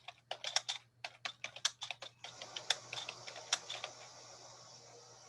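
Rapid keyboard typing, close and clear, a steady run of sharp clicks with a brief pause, then denser clattering over faint background noise.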